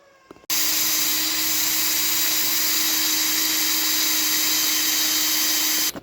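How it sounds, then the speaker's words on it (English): Power drill boring holes in an aluminium heatsink, starting abruptly after a short pause and running as a loud, steady high-pitched whine with no pauses, close to the microphone. "I'm just going to put the camera down and drill these holes"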